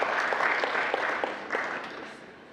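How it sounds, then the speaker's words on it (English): An audience claps for a presenter at a conference celebration, a dense burst of applause with a few sharper claps. It starts strong and thins slightly toward the end. "Please put a round of applause as we present before you Bwana Elias Omondi"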